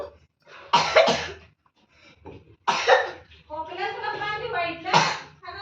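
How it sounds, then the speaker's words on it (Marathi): Someone coughs in several harsh, close bursts spaced a couple of seconds apart, with throat clearing and a spoken phrase between them. "खोकला येतोय"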